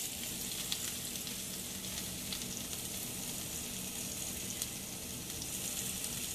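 Potatoes sizzle steadily in a hot fish skillet, a dense continuous crackle close by with a few small spatters and light scraping, no talk.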